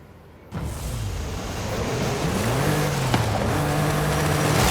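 A car in Forza Horizon 5 roars into motion after a quiet start, its engine droning loud and close with a rising, shifting pitch over a broad rush of road noise, and no voices.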